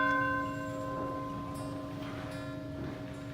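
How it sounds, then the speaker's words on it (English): An old courthouse bell, rung by pulling a rope, gives one clear ringing stroke at the start that decays slowly through the rest of the clip, with long sustained tones and no talk. "there's a rope that you can still ring the bell today"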